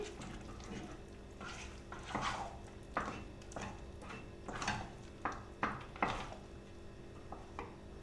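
Mushrooms being stirred in a pan for a creamy Romanian mushroom ciulama: a quiet run of spoon scrapes and soft clanks against the pan, irregularly spaced, close and faint with no talking.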